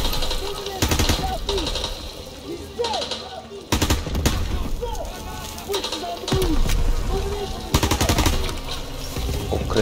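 Gunfire in the video game Call of Duty WWII comes as repeated loud bursts of automatic fire and single shots in irregular clusters, with chirping bird-like tones in between.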